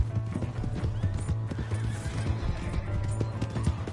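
Hooves clip-clop in a fast galloping rhythm with a horse neighing in Red Dead Redemption 2, a dense, continuous beat of hoofbeats with a whinny rising over it, fairly close.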